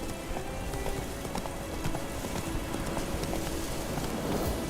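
A horse gallops in The Witcher 3, with rapid clip-clop hoofbeats at a steady rhythm over a dense background wash of ambient game noise.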